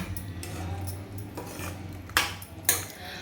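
A spoon stirs salt into paneer tikka masala in a pan, scraping and clinking against the metal in a few soft strokes and two sharper taps near the end, over a low steady background hum.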